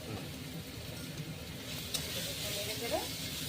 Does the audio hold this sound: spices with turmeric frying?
yes